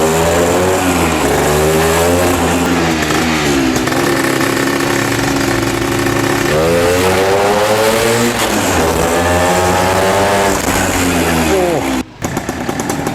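A racing Vespa scooter's engine, left unstarted for over three months, revs hard and loud in repeated rising and falling sweeps, a harsh buzzing two-stroke note with voices talking faintly underneath.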